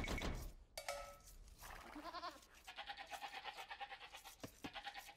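Sheep bleating in the Age of Empires real-time strategy game: a short bleat, then a series of rapid, pulsing, quavering bleats, fairly close and clear with no talk.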